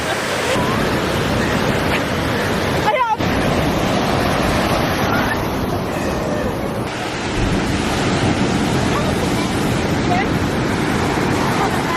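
Ocean surf rolls onto the beach at Mirissa, Sri Lanka, a loud, continuous wash of breaking waves close by, mixed with wind buffeting the microphone.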